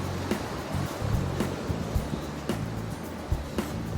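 Sea waves crash and wash continuously onto a beach beneath cliffs on the English coast between Cromer and Overstrand, a steady, fairly close surf roar with soft buffeting.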